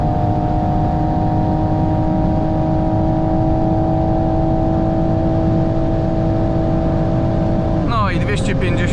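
Steady, loud engine drone from inside a 2022 Toyota GR Supra 3.0 running flat out near top speed, holding constant pitch before a sudden drop as it shifts up near the end, with a voice briefly audible.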